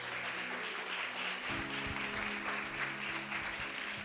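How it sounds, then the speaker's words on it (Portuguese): Congregation at a church service applauding steadily throughout, a dense wash of clapping from a full room, joined midway by sustained keyboard or band chords. "Dê um aplauso bem forte a ele."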